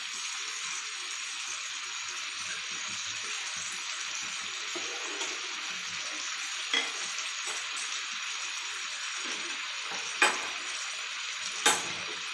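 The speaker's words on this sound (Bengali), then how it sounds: "এবার এর মধ্যে আমি গরম জল অ্যাড করে দিচ্ছি।" Fish curry simmers and sizzles in a pan as hot water goes in, a steady soft frying hiss with a few faint clinks of a utensil toward the end.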